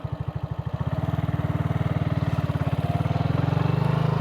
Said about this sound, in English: This little bike fires right up too. It's really nice. Fires right up. So let's go for a little cruise here.